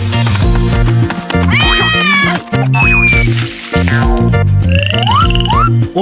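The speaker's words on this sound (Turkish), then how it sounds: "Oo, küçük kurbağa sen de mi buradaydın?" Cartoon frog croaks in a Turkish children's song about a little frog, repeated bright croaking and chirpy calls over a loud, bouncy musical backing, with no talking.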